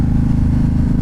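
A KTM RC8-R motorcycle engine revving at high RPM, a loud, steady, close-up roar with a dense low throb and no talk over it.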